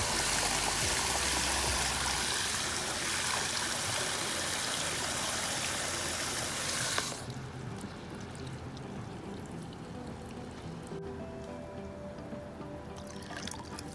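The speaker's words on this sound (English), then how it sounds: "We're going to keep watering it" Water pouring steadily into the soil of a potted ficus cutting, a loud continuous gush for about seven seconds that drops to a softer trickle and drip.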